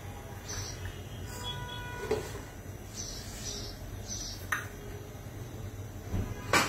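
A lid is set on a cooking pot of hilsa curry with potato and pointed gourd, making faint metallic clinks and taps over a quiet kitchen background.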